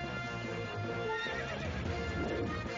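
Horse whinnying and neighing with clip-clopping hooves in the video game Zelda: Twilight Princess, a steady, loud game-audio loop with no talk over it.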